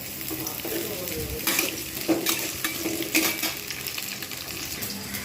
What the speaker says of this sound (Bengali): কড়াতে দিয়ে দিয়েছি সয়াবিন অয়েল গরম হয়ে গেছে এতে আমি পেঁয়াজটা ভালো করে লালচে করে ভেজে নেব